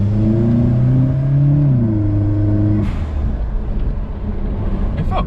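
A turbocharged Suzuki Vitara accelerates hard, its engine note climbing through a gear then dropping at the shift, followed by a lower rumbling cruise from inside the cabin.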